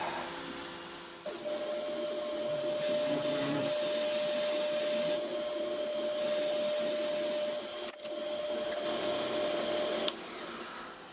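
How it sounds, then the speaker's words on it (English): A milling machine cuts a worn thread off a steel shaft for a homemade rotary table, a steady motor whine with a sustained cutting tone that holds through most of the stretch, with brief dips and knocks. "I milled that shitty thread off there, and I also machined this out"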